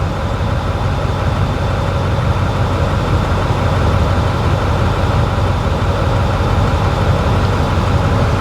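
A heavy diesel engine idles steadily and loudly up close during a key-off engine-running test, a constant low rumble with an even, unchanging rhythm.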